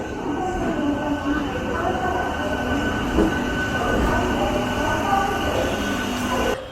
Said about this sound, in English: Here is another MEMU coming in on platform number 1